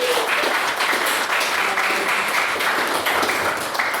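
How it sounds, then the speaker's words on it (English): A debating society audience gives a steady round of applause, dense clapping that holds at an even level throughout. "I want a round of applause for that."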